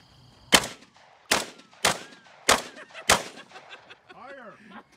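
Five loud, sharp gunshots ring out close by at roughly even half-second intervals as guns are fired at a car outdoors, with a brief voice following the last shot.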